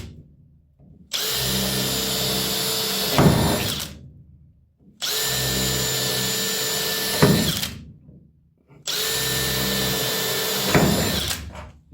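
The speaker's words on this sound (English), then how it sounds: "So I'll go through and I'll pre-drill them." A power drill runs three times in bursts of about two seconds each, whining at high speed and grinding into metal as it pre-drills spot welds on a Porsche 914, with pauses in between.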